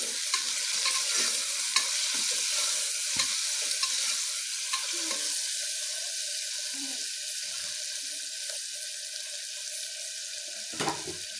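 A spoon stirs and scrapes salted masala in a sizzling pan for a khushka rice dish, with steady frying hiss and repeated soft scraping strokes, close and continuous.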